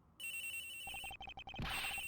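A video game cell phone rings inside a locker, a bright electronic ringtone with rapid repeating beeps, close and clear, ending in a short burst of noise.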